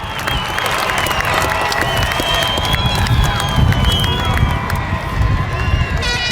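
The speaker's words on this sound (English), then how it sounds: "Clap for them." A large graduation ceremony crowd claps and cheers for a sustained stretch, loud and dense, with whoops, shouts and excited voices layered over the rolling applause.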